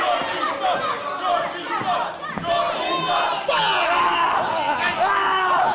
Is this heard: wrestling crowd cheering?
yes